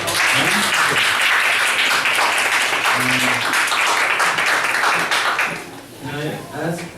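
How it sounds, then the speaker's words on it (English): A conference audience at Almedalen claps continuously for several seconds, dense and fairly loud, with a voice speaking over it before the clapping fades and talk resumes. "A round of applause, I think"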